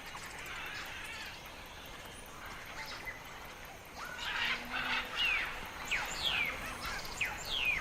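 In the Amazon rainforest, birds call out over a constant forest background, starting faint and growing louder, with sharp repeated cries and caws in the second half.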